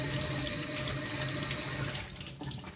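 Tap water runs into a kitchen sink as freshly washed strawberries are rinsed under it, a close, steady splashing stream that thins and turns more broken toward the end, with no talking.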